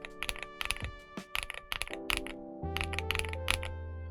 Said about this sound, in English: But this is the G Pro.